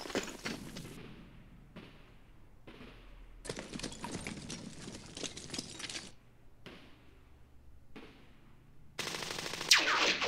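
Bursts of machine gun and rifle fire in a WWII-era war strategy game set in the Second Arab-Israeli War, a Mk3 tank returning fire; sharp crackling volleys come in separate clusters, with a louder dense burst at the end and no talk.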